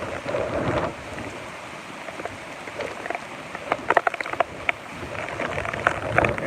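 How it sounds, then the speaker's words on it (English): Strong gusty wind from Typhoon Hagibis in Kawasaki roars in a steady broadband rush outdoors, with sharp clattering bursts and buffeting that suggest flying debris and wind hitting the microphone. "Wind is so strong outside I can see tree branches flying."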